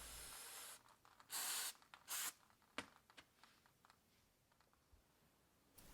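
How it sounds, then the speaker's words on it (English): A long hiss of aerosol brake cleaner sprayed on Toyota Sienna front brakes, followed by two short bursts, then a few light ticks and clicks in near silence. "Then give everything a good spray with the brake clean again."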